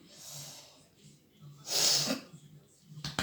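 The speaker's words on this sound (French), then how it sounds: "j'ai le nez un peu pris, donc vous allez m'entendre renifler" A person with a stuffy nose gives a loud, breathy sniff through congested nostrils, close to the listener, with softer breathing and a few small snuffles before and after.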